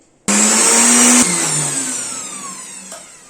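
An electric grinder jar whirs loudly, grinding boiled dal with green chilli into a paste, the motor starting abruptly, shifting pitch once partway through, then droning steadily on.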